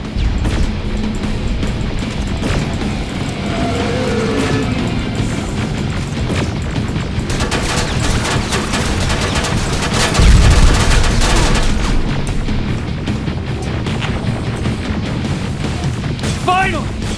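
Sustained gunfire and explosions fill a firefight in the video game Terminator: Resistance, dense overlapping shots and crashes with a heavy boom midway, continuous and loud throughout with voices shouting underneath.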